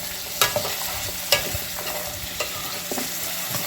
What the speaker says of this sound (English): I put the carrots right away so it will get cooked together with my onion and garlic